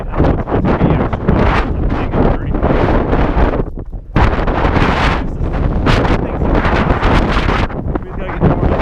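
Strong wind buffets the microphone outdoors on a cold run, a loud, continuous roaring rumble with a brief dip midway before the gusts surge back.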